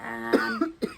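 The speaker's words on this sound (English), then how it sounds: "Sorry for the cough." A person coughs a few times in quick succession, close and fairly loud, with a short throaty, hoarse quality and no talk.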